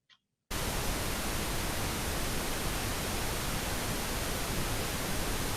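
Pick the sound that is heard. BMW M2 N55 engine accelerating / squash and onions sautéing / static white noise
static white noise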